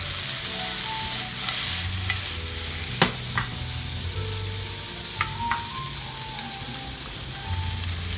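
Onions and peppers for a Philly steak frying in a pan, a loud, steady, close sizzle with a few sharp clicks and scrapes of stirring, with no talk.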